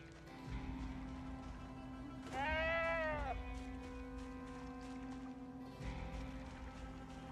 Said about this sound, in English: Sheep walked inside the house and immediately pooped.